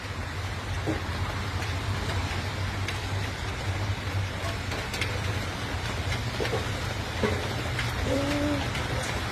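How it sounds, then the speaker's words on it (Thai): Steady rain patters on a surface, a dense continuous hiss with occasional louder drops and a faint distant tone near the end. "ฝนตกอีกแล้วพี่น้อง"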